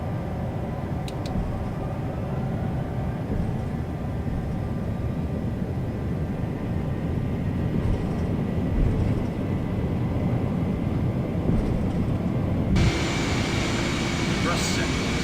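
MD-11 jet engines spooling up for takeoff in a flight simulator, a steady broadband roar that builds gradually, with a brighter hiss joining near the end.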